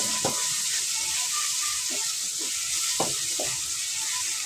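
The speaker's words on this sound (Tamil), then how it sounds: "நல்லா வதங்கி வரட்டும்." Ground onion and tomato paste for chickpea curry sauté in a pan with a constant, moderate sizzle, broken by a few sharp knocks and scrapes of stirring.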